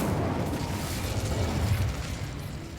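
Incendio fire spell cast in Hogwarts Legacy, a dense, roaring whoosh of flame that stays loud and steady from start to end with no voices.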